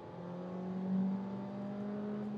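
A Volkswagen T-Roc R-Line in sport mode accelerates uphill from 40 to 80, its engine a steady rising hum heard from inside the cabin, swelling briefly before settling.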